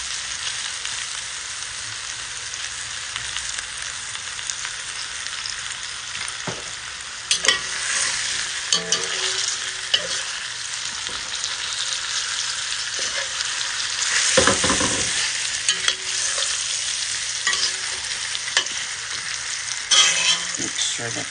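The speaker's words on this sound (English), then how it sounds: "Probably add some oil so it can fry nicely." Oil sizzles and crackles steadily in a pot while beef stew ingredients fry, with intermittent stirring scrapes and a louder surge of frying partway through, fairly close and without talk.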